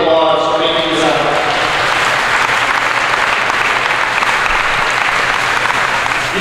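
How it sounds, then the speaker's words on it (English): A crowd at a high school signing day claps and cheers in loud, sustained applause that fills the room, continuing without a break. "So we can give all of those groups a big round of applause for making this happen."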